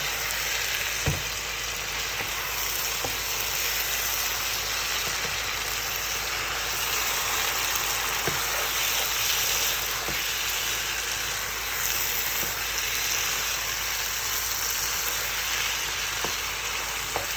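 Ackee and saltfish sizzle steadily in a hot pan as they are stirred together, a continuous close frying hiss with faint scrapes and taps from the spoon, no voices.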